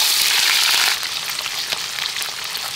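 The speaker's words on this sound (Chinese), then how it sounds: "同样油烧了鱼，我们放进鱼给它油煎一下" Fish sizzling as it fries in hot oil in a pan on a home stove, a steady loud crackle that eases slightly partway through, with no talking.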